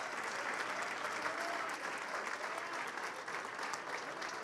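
A church congregation applauds for Jesus, a thick, steady roar of clapping from many people that fills the room at an even, loud level throughout.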